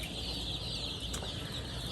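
Chicks in a small brooder on a pasture-raised farm give soft, continuous high peeping and clucking, faint and close, with no other sounds.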